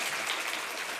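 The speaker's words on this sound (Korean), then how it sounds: "다시 한번 박수 부탁드립니다" Audience applause at a PyCon Korea 2019 lightning talk session, a soft, even wash of many hands clapping, distant and continuous.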